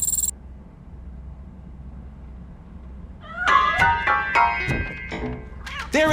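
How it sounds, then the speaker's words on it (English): A cat meowing in the Robocop video game, several short, tonal mews in a row after a quiet stretch, fairly close and clear, with game noise in the background. "That cat must be hiding inside. Let me lure it out."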